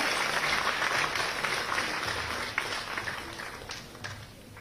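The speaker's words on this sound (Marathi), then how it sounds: "प्रेरणा संस्थेसाठी देखील पुन्हा एकदा जोरदार टाळ्या" Applause at a children's rights award ceremony held by the Maharashtra State Commission for Protection of Child Rights, a sustained wash of crowd clapping that slowly fades, fairly distant and moderately loud.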